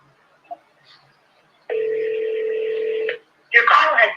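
A phone call rings out: a steady electronic ringback tone lasting over a second after a quiet pause, followed by a burst of a recorded voice on the line.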